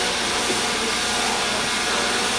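A hair dryer blows steadily close by while fine hair is dried over a wide round brush, a constant loud whooshing roar with no pauses or voices.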